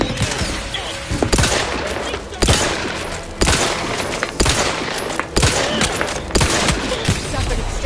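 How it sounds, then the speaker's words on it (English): Gunfire in The Outer Worlds 2 comes as a loud fusillade of sharp shots, with regular heavy cracks about once a second over continuous rattling fire, close and dense throughout. "Lay down fire."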